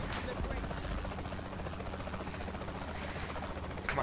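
Helicopter in Saints Row 3, a game, a steady rhythmic rotor chop throughout, moderately loud, with voices talking over it.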